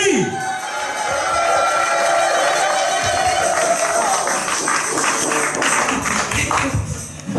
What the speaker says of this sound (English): Clap your hands, stamp your feet, make some noise for the one that we call Stella B.